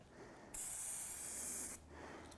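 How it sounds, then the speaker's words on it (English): Eastwood 2K engine paint spraying from a spray gun with the nozzle turned to a wider setting gives a steady, loud hiss lasting about a second and a quarter before cutting off. "we're already getting a wider spray pattern there just by turning the nozzle just a little bit"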